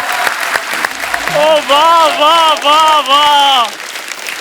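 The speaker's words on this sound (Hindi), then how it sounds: "जोरदार तालियां" Studio audience on a comedy talk show claps steadily in the background while a man's excited exclamations ring out loudly over the applause.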